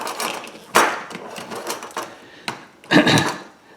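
Half-inch knockout punched out of the metal end of an LED canless light junction box, several sharp metallic clicks and snaps with a couple of louder knocks, close and alone.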